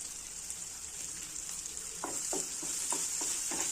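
Onions and green chillies fry in a pan with a soft continuous sizzle, joined halfway through by a series of rhythmic spatula scrapes and stirs.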